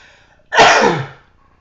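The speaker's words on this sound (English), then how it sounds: "I'm about to sneeze again" One sharp, loud human sneeze bursts out after a short quiet moment and then trails off, heard alone.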